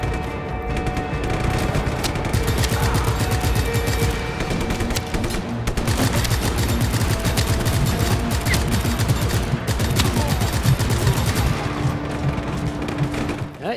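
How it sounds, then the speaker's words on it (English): Enemy gunfire in Just Cause 3, dense bursts of automatic and single shots crackling loudly and continuously, layered with impacts and booms throughout. "Who is shooting at me now?"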